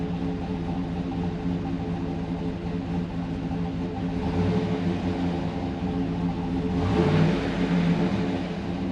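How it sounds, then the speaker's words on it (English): Engine of a 2010 GMC Yukon with its DOD/AFM system deleted idles roughly, a steady low rumble and drone heard up close that swells slightly midway and again near the end, with no voices. "here's my rough idle's already starting"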